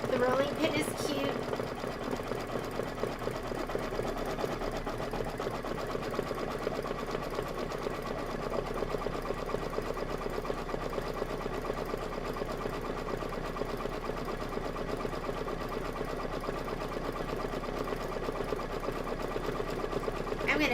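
A Kimberbell embroidery machine stitches out a design in a steady, fast mechanical rattle that runs evenly throughout, close and continuous, with a voice talking over it.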